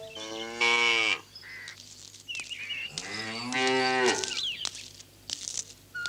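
A cow tethered at a rural house gives two long, loud, bellowing moos close by, with quieter shuffling and faint bird chirps between the calls.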